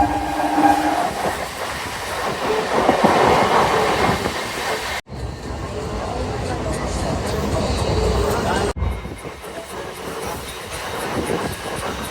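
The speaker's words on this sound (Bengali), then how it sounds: "7 নম্বর প্ল্যাটফর্মেই আমাদের ট্রেন দাঁড়িয়ে আছে।" Train standing at platform 7 of a busy station, with a steady rumbling railway roar and the clatter of carriages under a person's talk, loud and close throughout.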